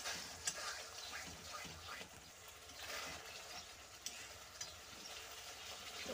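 A small tomato drops into frying masala for a loitta fish curry, a soft steady hiss and sizzle with faint stirring scrapes, close but quiet throughout.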